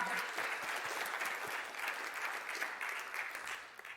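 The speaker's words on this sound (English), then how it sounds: "Round of applause for the team." An audience at a university engineering program event claps in a quiet, steady round of applause that thins out slightly toward the end.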